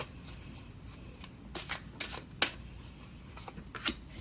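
Tarot cards are shuffled close up in a rapid series of soft riffling flicks and slaps, several quick bursts over a few seconds with no talking.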